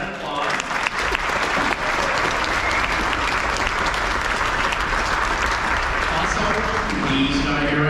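Steady audience applause at a high school honor band concert, a full, even wash of clapping from a large crowd lasting several seconds, with some murmured voices underneath.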